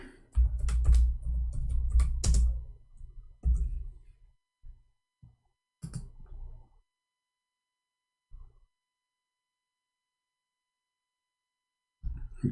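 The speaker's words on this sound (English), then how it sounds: "Let us type the word 19." Keys tapped on a computer keyboard in a few short irregular bursts, close and clear, with long quiet gaps between and a final burst at the end.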